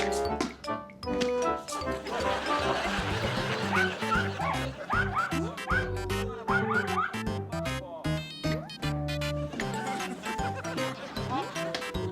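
A dog barks and yips excitedly over and over amid a lively volleyball game, with crowd noise around it.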